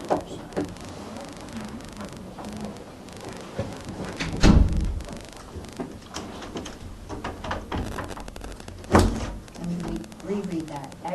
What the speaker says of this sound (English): Could you please close that door?